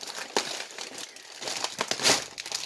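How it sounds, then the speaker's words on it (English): Plastic bags and bubble wrap packaging crinkle and rustle close up in irregular bursts, with one louder crackle near the end. "Everything's in a plastic bag, in bubble wrap."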